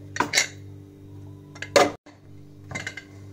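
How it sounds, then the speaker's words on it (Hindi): A pressure cooker lid clanks down onto a metal cooker of beans and dal in a home kitchen, giving a few short metallic knocks and clinks close by, with a steady low hum underneath. "अब मैं ढककर रख देती हूँ कुकर को"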